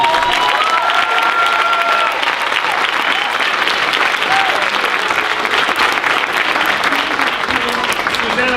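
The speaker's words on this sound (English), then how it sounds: "Please, a round of applause for them." Sustained, loud applause from a school show audience for a Black Student Union cast of students, dense clapping with some cheering and voices mixed in throughout.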